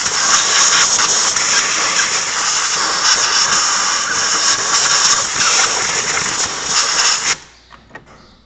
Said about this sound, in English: take a compressed air blower and blow all the dirt out